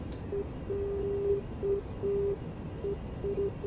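Inside the DCS F-86F Sabre flight simulator, a navigation beacon plays a steady Morse code pattern of short and long tone beeps over a constant cockpit hiss.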